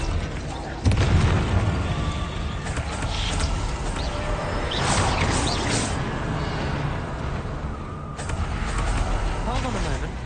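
A Confringo fire spell bursts in the Hogwarts Legacy video game: a loud, booming explosion that rolls on with rumbling debris and crackle, followed by further blasts later on.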